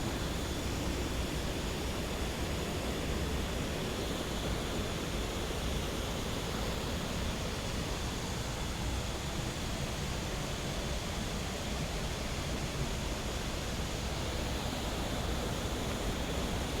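Kroeng Krawia waterfall in Sangkhla Buri, Kanchanaburi, gives off a constant roar of rushing water. The hiss is steady and unbroken throughout, close and fairly loud, with no voices.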